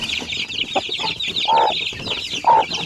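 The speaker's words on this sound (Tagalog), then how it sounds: "Yan mga sisiw nila," Chicks about two weeks old peep with a constant chorus of high, thin chirps, close by and fairly loud, with a few stronger cheeps standing out.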